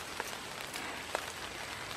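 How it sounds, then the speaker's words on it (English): Steady rain falls outdoors in a Georgia yard, a soft continuous patter with a couple of sharper single drops standing out, fairly quiet and close, with no voices. "I hate to say it, but it's raining."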